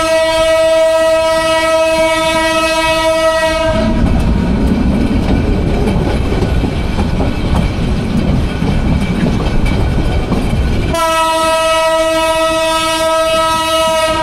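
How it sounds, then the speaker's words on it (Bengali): A Nazirhat local train pulls out of a Chattogram station, its loud horn blaring at the start and again near the end around a heavy rolling rumble of wheels and carriages. "দেখ আমাদের ট্রেন 8:40-এ কিন্তু ছেড়ে দিল।"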